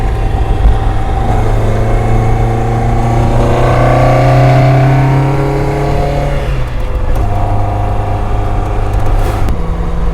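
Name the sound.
tuned car engine revving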